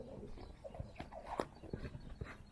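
A young colt lopes at a colt start, his hoofbeats giving a few soft, uneven thuds on the ground at close range against quiet surroundings.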